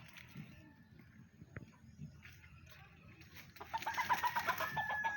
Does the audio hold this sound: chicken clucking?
yes